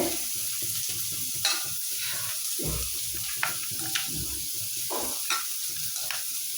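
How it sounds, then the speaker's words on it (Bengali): Onions frying slowly in a pan, a continuous sizzle broken by repeated scraping stir strokes and a few sharp ticks, close and steady. "তো ওইদিকে পেঁয়াজ আস্তে আস্তে ভাজি"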